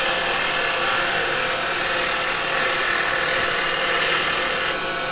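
Spindle gouge making a planing cut on a wood lathe: a steady, continuous hissing shave of wood with a faint high whine, fairly loud and close, running unbroken for about five seconds before easing off slightly at the end.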